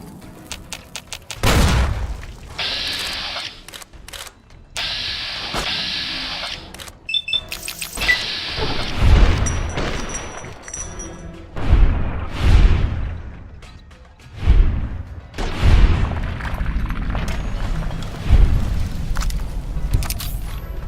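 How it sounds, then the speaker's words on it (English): Repeated gunfire and explosive booms from a fully upgraded plasma pistol during combat in Fallout New Vegas, loud bursts scattered across the stretch with bright energy-weapon whines between heavy low thuds, no talking. "let's VATS him with our now fully tricked out plasma pistol"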